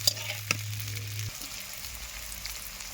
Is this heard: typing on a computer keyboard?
no